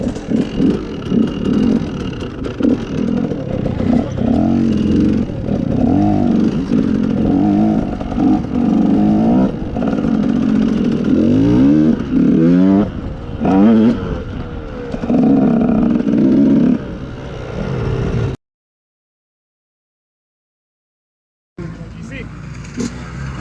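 A car engine revs repeatedly and unevenly as a learner driver struggles to pull away during a driving lesson, with the clutch engaging on its own; voices talk over the engine throughout, and the sound cuts out near the end.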